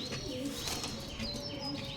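Pigeons coo in a loft during an evening pigeon sale showing of Andhra red, kalshira and Chennai green birds, several soft repeated coos overlapping close by over a steady background hum, with a few faint chirps.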